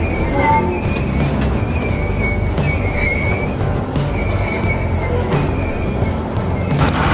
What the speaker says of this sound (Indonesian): kereta api lokal Walahar baru saja tiba